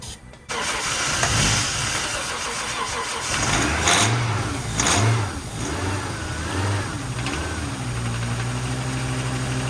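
A '90s Acura engine on a jump start cranks, catches and revs loudly under throttle, dropping back toward a steady idle, with voices speaking briefly over the running engine.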